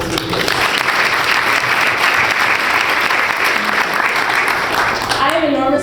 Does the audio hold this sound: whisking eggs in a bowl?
no